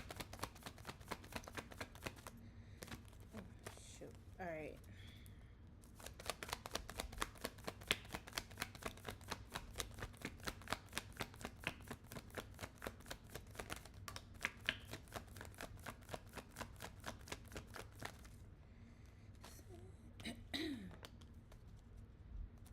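Rapid, steady riffling of tarot cards being shuffled close by, with a few short spoken remarks and pauses between bursts.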